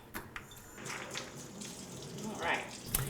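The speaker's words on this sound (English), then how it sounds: "I'm going to give them a good rinse." Caribbean pink beans are rinsed in a colander under a running tap, a continuous close splashing rush of water with a few clatters.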